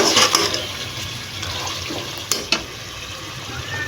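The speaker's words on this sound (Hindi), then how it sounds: "अब हमने इसमें थोड़ा सा मज़ीद पानी ऐड किया है" Water poured into a pan of cooking chicken karela, a hissing, splashing rush with bubbling sizzle, busy at the start and then settling into steady simmering with a couple of sharp clinks.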